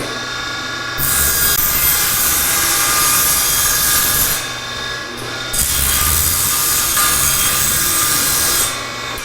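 Handsaw cutting a scrap of 1/4 inch plywood, two long bouts of steady rasping strokes separated by a short pause, close and loud with no voices.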